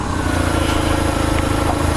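BMW R1150RT motorcycle engine held at high revs, a steady, loud, buzzing drone with a dense throbbing rumble that stays constant without pause.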